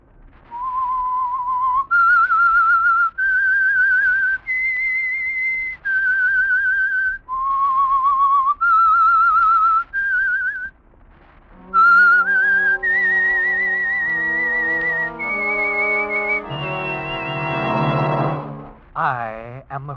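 A lone whistler performs the eerie theme signal of The Whistler radio program, a slow melody of sustained notes that climbs and falls, clear and close, with an orchestral chord swelling in near the end.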